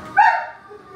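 A single short dog bark rings out close by, then fades quickly.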